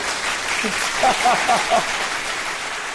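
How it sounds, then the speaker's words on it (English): A steady round of applause runs throughout, a close, even patter of clapping with a voice talking briefly over it. "Give you a big round of applause for that, brother."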